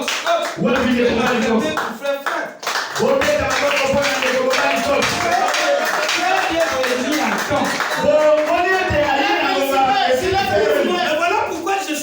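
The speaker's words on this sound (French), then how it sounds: "Acclamez très fort" A church congregation claps during a sermon, with steady rhythmic applause layered with voices and calls, loud and continuous apart from a brief lull early on.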